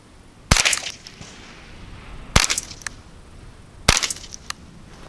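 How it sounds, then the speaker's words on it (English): Three sharp rifle cracks from a Ruger 10/22 firing .22LR at a 15-meter range, evenly spaced about two seconds apart, each loud and crisp with a short ringing tail and no talking. "We'll take a couple shots here and then see where the point of impact is."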